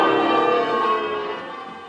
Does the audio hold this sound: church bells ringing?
yes